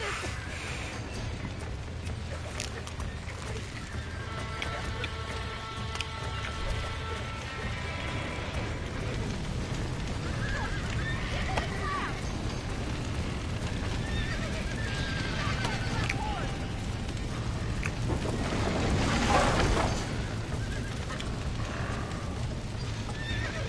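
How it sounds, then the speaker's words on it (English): Horses in Red Dead Redemption neigh and whinny over a steady rumble of hooves clip-clopping at a gallop, with game ambience underneath and occasional louder crashes throughout. "Now let's save the horses!"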